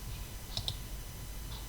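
A computer mouse gives a quick double click on a browser bookmark, small and crisp, faint against a steady hiss.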